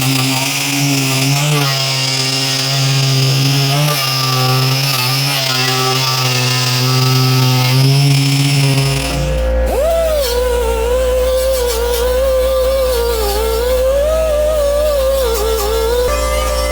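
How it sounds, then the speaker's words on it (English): A conical wire brush on a power tool scrubs rust off the transmission pan of a C3 Chevy Corvette, a loud steady whirring grind that shifts pitch partway through and runs continuously with no talk. "So I'm just using a conical shape wire brush"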